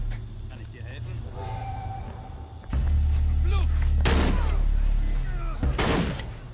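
Gunfire and explosions in Shadow of the Tomb Raider, loud booming blasts and bursts of shots over a low rumble, close and heavy, with someone talking in between.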